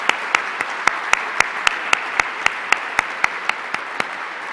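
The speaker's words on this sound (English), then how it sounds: "Let's give her a round of applause." At an aerospace awards ceremony, sharp regular claps arrive in an even rhythm, roughly four a second, over a soft background hiss and without voices.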